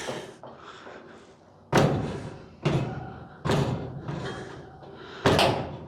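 Four loud, sharp door slams from a 1950 Chevy pickup truck being test-closed during door fitment work, each impact followed by a short metallic rattle, close by with no talking.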